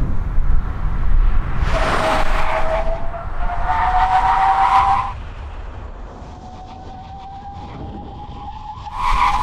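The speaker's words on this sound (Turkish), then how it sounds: "O nedenle fren denememizi 150 km hızla yapacağız." Mercedes A200 1.3 TCe and Audi A3 35 TFSI braking hard from 150 km/h, loud tire squeal in two long screeching bursts over road and wind roar, a fainter squeal trailing behind.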